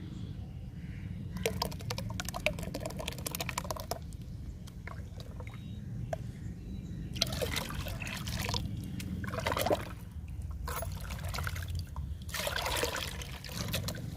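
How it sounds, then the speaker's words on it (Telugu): Water is poured into a ground fruit-peel paste to dilute it, giving bursts of trickling and splashing liquid between quieter stretches, close by and with no talk. "ఈ పేస్ట్ని వాటర్లో డైల్యూట్ చేసుకుందాము."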